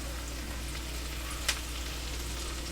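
Fresh sage leaves frying in a hot pan over fairly high heat, giving a steady, even sizzle throughout with one brief crackle midway, close and fairly quiet, no voices.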